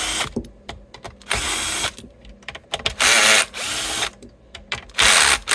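Bosch power drill fitted with a 10 mm adapter driving screws out of a vintage 1970 Gibson SG guitar, loud whirring bursts of a second or so alternating with clicks and short rattling pauses.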